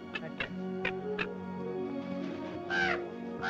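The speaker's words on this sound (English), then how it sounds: "I can't even scare a crow." A crow caws several times in a farm field, short harsh calls in quick succession at moderate distance over a steady low background hum.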